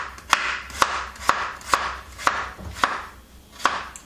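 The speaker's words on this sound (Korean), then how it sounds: "당근은 좀 얇게 썰었어요." A knife slices a carrot thinly on a cutting board, about eight crisp chops at a steady, slightly uneven rhythm, close and clear with no voices.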